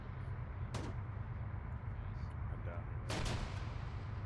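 A frag grenade goes off in a video game as a faint, distant blast. A second sharp crack follows a few seconds later over a low, steady rumble.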